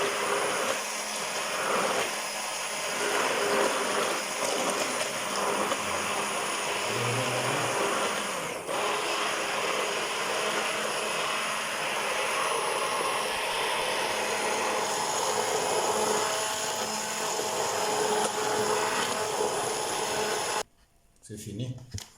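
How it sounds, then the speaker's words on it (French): Machine grinding ediagur plant branches with water, less than half a litre, a continuous loud broadband whir and rasp that holds steady for about twenty seconds, then cuts off abruptly before a brief final rattle. "Et là, je vais le broyer avec la machine"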